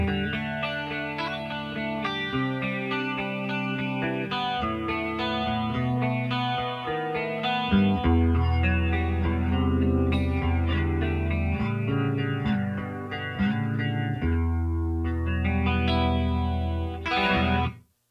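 An electric guitar plays a riff in a clean tone with a shimmering chorus effect through a Fractal amp modeler, steady and continuous, with no talking.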